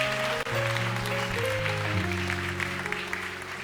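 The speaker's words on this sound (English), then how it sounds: "Let's clap our hands for them." A church congregation claps together in a steady, even round while music plays underneath, the clapping filling the room for a few seconds.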